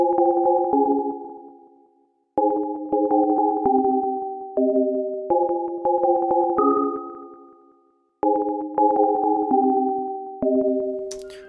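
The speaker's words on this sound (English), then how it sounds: "changed the main sound to this FabFilter twin bell" A FabFilter Twin bell-like synthesizer plays a plucked chord melody in repeating phrases, each note ringing out clearly and decaying, with brief gaps between phrases.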